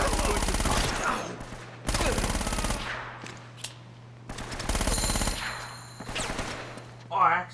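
SMG fire in Uncharted: several loud bursts of rapid automatic shots separated by short pauses over a steady low game hum, with a speaking voice in between.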